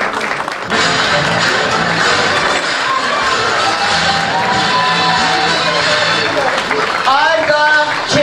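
Crowd applause and cheering at a graduation ceremony, steady clapping filling most of the clip after a brief announcement, with a voice speaking near the end.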